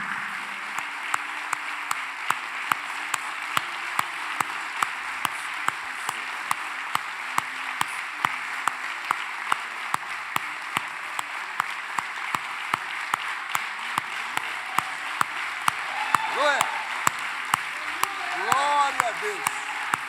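Church congregation applauding during a worship service, continuous clapping with a regular rhythmic beat of sharper claps running through it, joined near the end by voices calling out.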